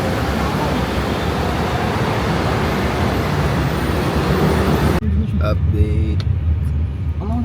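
Riding inside a car through road traffic, a loud steady rumble of engine and road noise that drops to a quieter cabin hum partway through, with someone briefly speaking.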